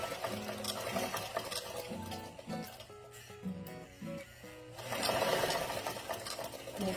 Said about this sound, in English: starting my top stitching with my needle to the right, about a 1/4 inch over where there's already stitches